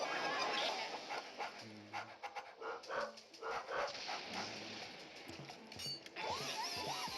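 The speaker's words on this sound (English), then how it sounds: "it's actually some realistic dog whining noises" Dog whining and panting in the video game Luigi's Mansion, with a few short whimpers and breathy pants over busy game music and effects, loud and close.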